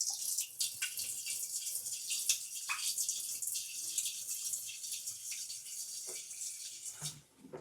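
Vinegar poured into a toilet bowl to clean slow-flushing jets makes a steady, close splashing trickle that runs for several seconds with no talk, then tapers off briefly near the end.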